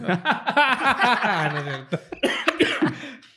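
Someone coughs and laughs at close range in a loud, halting string of chesty bursts and breathy chuckles.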